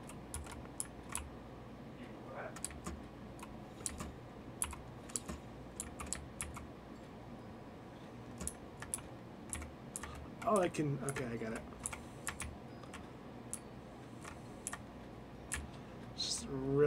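Rapid computer keyboard typing clicks through a YIIK game stream, near and steady, with a few brief spoken words and a laugh-like burst partway through.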